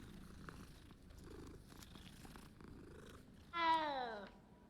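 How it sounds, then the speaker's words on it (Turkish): A cat purrs steadily in Hogwarts Legacy, a soft, low rumbling loop under faint game ambience, then a brighter, louder meow-like call rises near the end. "Kediden çıkıyormuş o ses."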